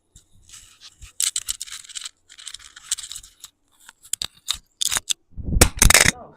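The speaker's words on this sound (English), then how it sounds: "Let me shuffle these cards." Tarot cards being shuffled in bursts of crisp riffling and flapping, several separate quick shuffles building to a louder, fuller riffle near the end, close and with no talk.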